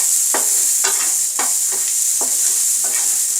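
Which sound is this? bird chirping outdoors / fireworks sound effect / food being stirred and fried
food being stirred and fried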